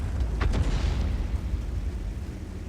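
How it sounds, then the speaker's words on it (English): Artillery firing and a shell exploding in World of Tanks, heard as a heavy low-end boom that rolls on as a deep rumble, with a short burst early on, loud and close. "Artillery just fires and misses."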